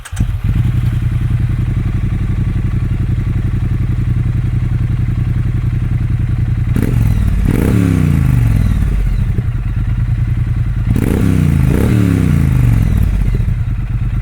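A Triumph Street Twin motorcycle fitted with Vance & Hines slip-on exhausts idles loudly and close, then revs sharply twice, each blip rising and falling back to a deep, steady idle.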